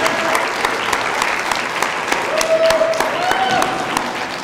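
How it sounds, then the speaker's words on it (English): Applause from a graduation ceremony audience for the graduates' supporters, a dense round of clapping with a faint voice or whistle-like tone partway through, steady and fairly loud throughout. "let's all give them a round of applause"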